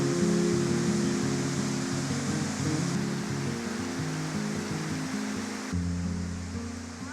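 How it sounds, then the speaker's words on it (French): A waterfall on the west coast of New Zealand's South Island gives a steady, loud broadband rush of falling water, continuous throughout and heard alone. "Là je vais vers une petite cascade, une grande cascade même."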